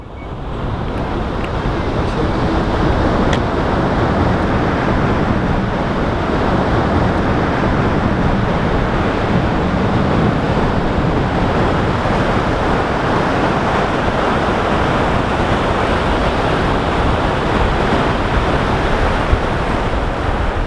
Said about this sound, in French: au milieu des vagues, il y avait une grosse tempête, des grosses vagues